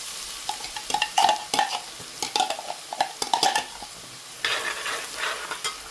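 Garlic frying in oil in a pan for a fish curry, a crackling sizzle broken by repeated scraping and stirring strokes, fairly loud and close, with no talking.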